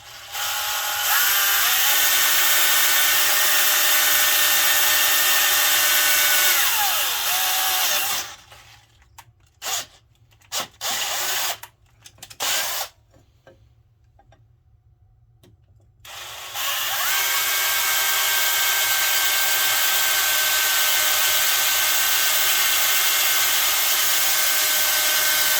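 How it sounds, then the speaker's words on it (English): Loud, close whine of a hand drill running steadily, stopping for several seconds with a few short bursts and clunks in between, then starting again and running continuously. "Let's use a hand drill for this one."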